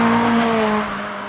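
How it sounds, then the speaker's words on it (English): A Honda Integra Type R DC5 engine drones from inside the cabin at a steady pitch, loud and close, and settles slightly lower as the revs ease off. No one speaks over it. "the noise from this thing, and that short shifter there, Darren, just feels so good"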